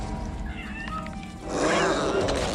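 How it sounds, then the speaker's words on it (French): A cat meows in a science-fiction TV episode, a few short wavering cries over a steady soundtrack and a louder roar of sound swelling up after them. "Oh le chat dégueu"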